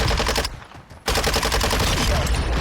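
Dense rapid automatic gunfire from the video game Warzone 2.0 on the Vondel map, loud and close, with a brief lull before the bursts resume and continue without a break to the end.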